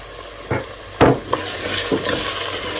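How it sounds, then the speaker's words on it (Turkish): Red and green peppers sauté in a pan for a Georgian-style eggplant and rice stew, with a few sharp spatula scrapes and knocks over a low, steady sizzle. "Biraz da yeşil biberle kavuralım."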